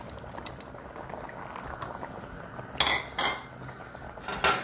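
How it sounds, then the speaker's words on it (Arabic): Okra dropped into Indian sambar simmering with eggplant and tomato: quiet bubbling, then clinks and rattles of a spoon and pot as the vegetables go in. "الآن سوف أضيف البامية"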